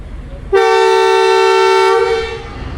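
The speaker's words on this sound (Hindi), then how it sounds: "गार्ड साहब ने विसल बजा दी है।" A guard's whistle blows at Rawalpindi railway station beside the Jaffar Express, one loud, steady, shrill blast lasting about two seconds after a faint murmur of platform background, then fading out.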